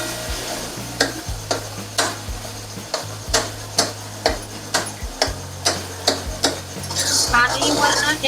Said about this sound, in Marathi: 5 मिनटं जरा टमॅटो जरा असा गाळ होईपर्यंत आपण परतून घेणार आहोत